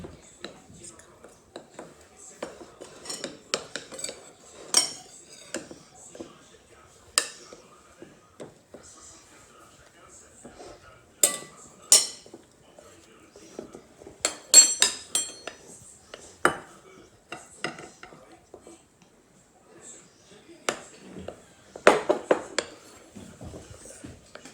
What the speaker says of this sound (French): Il va bien falloir brasser fort et beaucoup de force pour bien mélanger la farine avec nos autres ingrédients.